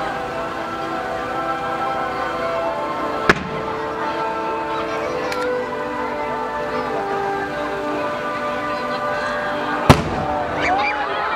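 Fireworks at the 2013 Hiroshima harbour fireworks festival: two loud, sharp bursts and a fainter pop ring out at intervals over steady music playing throughout.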